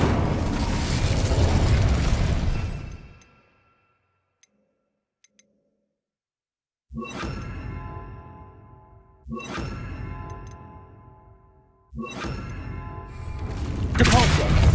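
In Hogwarts Legacy, the Incendio fire spell erupts in loud whooshing bursts: one long blast, then silence, then three more roaring bursts that each fade off, close and alone.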